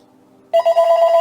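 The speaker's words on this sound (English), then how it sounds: "There's the phone, never fails." A telephone in the room begins ringing abruptly after a quiet moment, a loud warbling electronic trill that pulses rapidly and continues to the end.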